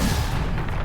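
In Hogwarts Legacy, the Confringo fire spell lands with a brief, loud, booming blast, a single heavy thump that fills the moment with no talk.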